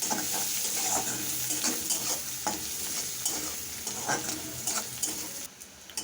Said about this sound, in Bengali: প্রথমে আমি এখানে দিলাম পেঁয়াজ আর কাঁচা লঙ্কা। পেঁয়াজটাকে একটু লাল লাল করে ভাজবো।